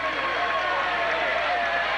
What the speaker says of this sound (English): A lot of White County fans over here cheering on their team.